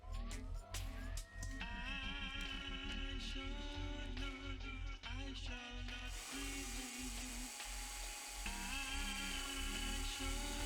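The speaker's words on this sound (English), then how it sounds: "You're going to drill through them anyway" A power drill whines and revs in repeated bursts, drilling through pilot holes to mount flaps on a Seagull Models Yak-11 model airplane, pitch rising and falling as it bites, close up, with a long continuous run at the end.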